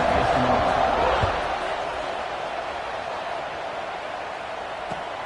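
Steady roar of a stadium crowd at a Mississippi State football game, a broad, continuous buzz that swells early and then settles to a constant wash, with no distinct voices standing out.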